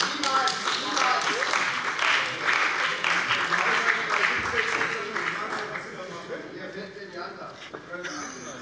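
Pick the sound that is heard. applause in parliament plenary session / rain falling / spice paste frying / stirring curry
applause in parliament plenary session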